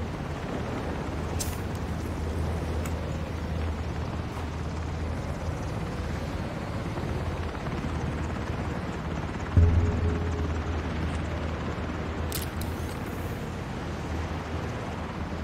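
A helicopter in the video game Ring of Elysium gives off a steady, droning rotor roar with a low throb, continuous throughout, with a brief louder thump partway through.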